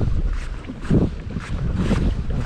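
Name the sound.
strong wind on a lake while bass fishing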